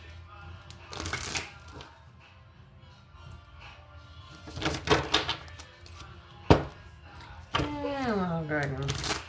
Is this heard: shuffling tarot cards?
yes